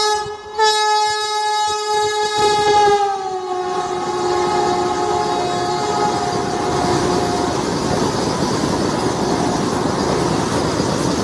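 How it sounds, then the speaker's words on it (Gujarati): A Rajkot passenger train's horn blares loudly for a few seconds, then fades into the steady rumble and clatter of the passing train. "આ રાજકોટ પેસેન્જર ટ્રેન છે"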